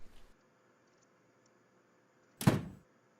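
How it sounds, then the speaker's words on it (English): A door in the game The Cat Lady swings shut by itself with a single dull thunk, loud against an otherwise near-silent room with a faint low hum. "Door magically closes by itself."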